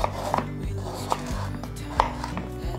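A knife cuts peeled potato slices into thick strips on a board, with a few sharp chops scattered among steady low background hum, fairly close and clear.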